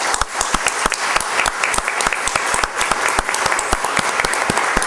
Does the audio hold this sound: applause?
yes